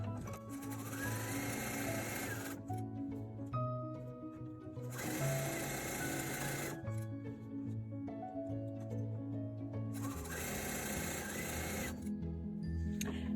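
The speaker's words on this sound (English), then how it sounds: "so you sew them all up, and at the end you will have 48 rectangles with squares sewn on them" A sewing machine stitching quilt rectangles with squares sewn onto them runs in three steady, rapid bursts of stitching separated by short pauses, close and clear with no talking.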